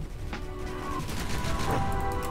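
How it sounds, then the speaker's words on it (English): Cannon fire in a From the Depths naval battle between heavy cruisers: a couple of sharp booms rise out of a constant, dense wash of battle noise. "this is probably a Sivs cannon."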